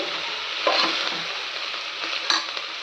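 Masala for a ridge gourd kootu sautés in a pan with a loud, dense hiss, while a spoon scrapes the pan in short strokes close by; no talking.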